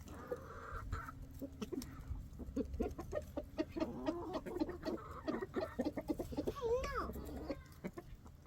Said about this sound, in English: The rooster looks wet.